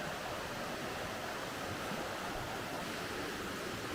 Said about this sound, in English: And there's the river now.